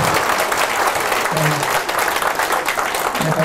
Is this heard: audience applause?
yes